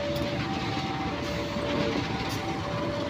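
A Penataran passenger train on an Indonesian railway journey rumbles steadily with a continuous mechanical drone and a faint sustained tone, heard at moderate distance with no talk.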